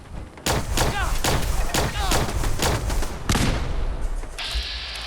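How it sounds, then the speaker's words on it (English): Plasma rifle fire in Fallout 4, heard as a rapid series of sharp, loud energy shots at an uneven rhythm, around eight or nine bursts with zapping tails, ending in a brief higher-pitched whine. "Where did they get plasma rifles from?"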